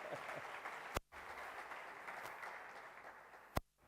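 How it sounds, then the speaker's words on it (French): A church congregation applauding its district chief: a dense, steady wash of clapping from many hands, fairly faint and unbroken for several seconds between two short sharp clicks. "est-ce qu'on peut acclamer le chef de district?"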